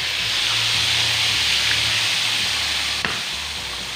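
Floured tilapia fish, two of them, fry in hot oil with a loud, continuous sizzle and hiss throughout, close up, with one brief clink near the end.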